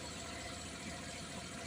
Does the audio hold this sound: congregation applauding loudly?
no